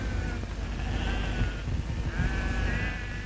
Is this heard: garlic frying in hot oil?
no